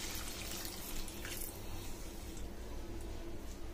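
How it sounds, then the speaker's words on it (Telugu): Water is poured into a pan of simmering soya chunk gravy, giving a continuous splashing, gushing wash that holds steady at moderate loudness for the whole stretch. "ఇలా ఆయిల్ అంతా ఇలా పైకి వెళ్ళిన తర్వాత కొద్దిగా వాటర్ వేసుకుందాము."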